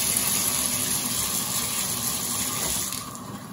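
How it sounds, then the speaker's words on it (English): A shower runs with water streaming continuously in a close, even rush, steady throughout and with no voices. "I'm about to get in the shower."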